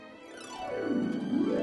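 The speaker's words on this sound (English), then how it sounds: "listen out for that harp again" Harp plucked and strummed within an orchestral Christmas pop arrangement, a sweeping glissando-like run rising and falling over soft orchestral backing, moderately quiet and alone without voices.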